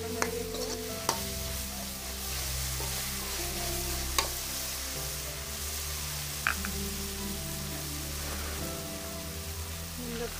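Spices and ground chilli sizzle steadily in a pan for a shrimp curry with Malabar spinach and potato, a dense continuous frying hiss with occasional scrapes and knocks of a stirring spoon.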